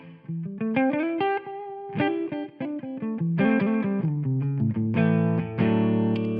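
A clean electric guitar tone from a Quad Cortex modeled on a 2-Rock Studio Signature amp, played as a run of plucked single notes and ringing chords, clear and close with no talk.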